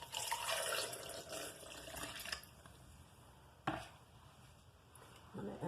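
A short pour of water splashes into a container of salsa, followed by a couple of clunks and faint kitchen handling sounds.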